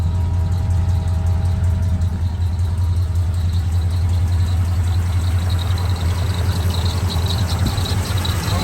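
A cold 1984 Chevrolet K20 pickup with a Scottsdale package, headers and an aluminum intake idles just after starting, a steady low rumbling drone close to the microphone with a faint squeaky belt, and no talking.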